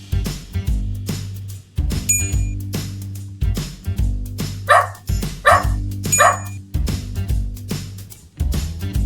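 A dog gives three short, sharp barks in quick succession midway through, heard over steady low background tones and tapping sounds.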